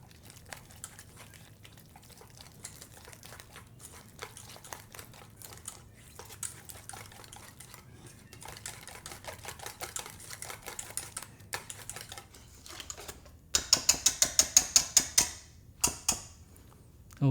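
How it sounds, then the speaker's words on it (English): A batter of flour, cornstarch, water and egg is stirred in a bowl. Faint scattered clicks and scrapes build into a louder run of quick rhythmic whisking strokes near the end. "Now I'm going to give that a good mix."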